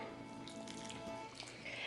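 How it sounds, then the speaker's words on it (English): Boiling water is poured over orange gelatin in a bowl, a faint, brief liquid stream with small dripping splashes; no one speaks. "Now we're going to place our boiling water"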